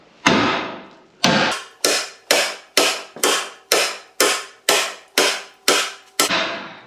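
A heavy hammer strikes a metal bumper mount on an ML vehicle again and again, about eleven loud, sharp, evenly spaced blows that ring briefly, close up, with no talking.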